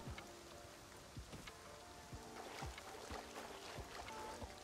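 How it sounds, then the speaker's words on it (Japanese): Heavy rain falls in a survival video game, a dense continuous hiss with many sharp drop-like ticks and patters scattered throughout, fairly quiet overall, no talking. "めちゃめちゃ雨降ってますね。"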